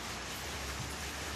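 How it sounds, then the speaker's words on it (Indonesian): Steady rain falling outdoors at a village villa during a barbecue, a dense, even hiss of drops with no talk, faint and continuous throughout. "Tapi hujan kan dia?"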